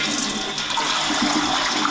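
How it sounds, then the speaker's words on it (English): A toilet flushes in a house bathroom, a steady close rush of swirling water filling the short moment with no other sound. "Toilet works."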